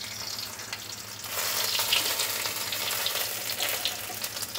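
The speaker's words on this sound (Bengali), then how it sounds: "গরম হয়ে গেছে। একটু তেল, তার মধ্যে তেজপাতা, দুটো শুকনো লঙ্কা দিয়ে দিচ্ছি" Bay leaves and two dried red chillies hit hot oil in a pan, setting off a sudden, steady sizzling frying hiss that jumps up partway through and holds close and loud.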